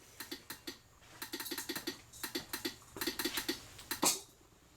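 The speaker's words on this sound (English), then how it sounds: "That sound you're hearing right now is the relay because I walked in front of the motion detector again." A 12-volt relay in a motion-triggered Halloween prop controller clicking in quick, uneven runs of sharp ticks, close and fairly faint, with a louder click near the end and no voices.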